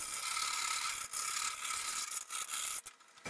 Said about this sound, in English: Now we just deburr the hole some.